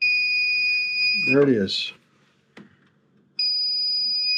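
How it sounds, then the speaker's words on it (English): A circuit breaker finder gives a steady high electronic beep that stops while someone speaks briefly, then resumes, close and clear. "run it up and down both ways first. and it'll beep when it gets to the circuit."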